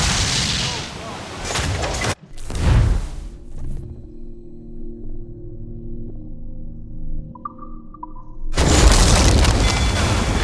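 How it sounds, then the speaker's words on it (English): Cannon fire in the video game Assassin's Creed IV Black Flag: two heavy booms in quick succession, then a quieter stretch with a low drone before another loud burst of rumbling noise. "Fire what cannons you will."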